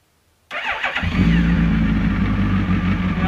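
A Suzuki GSX1300R Hayabusa motorcycle engine cranks and fires up, then settles into a steady, loud, close idle. There is no talking over it.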